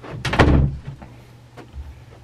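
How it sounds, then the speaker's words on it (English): A door is pushed shut with a loud close thud, followed by a couple of faint clicks from the lock, heard nearby in a small room with no talking. "Lock the door all the way."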